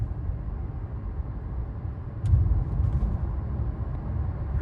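Inside a new car on the move, a low, soft road rumble hums steadily with almost nothing else, one brief faint click midway, and no one speaking.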